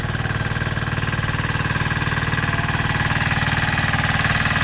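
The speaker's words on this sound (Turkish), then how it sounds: "Motorun fazla ses çıkarması arkadaşlar egzozu kayboldu. O yüzden bayağı gürültülü çalışıyor." A loud irrigation engine with its exhaust missing runs steadily with a harsh, rapid pulsing rattle, unmuffled and close, holding constant throughout.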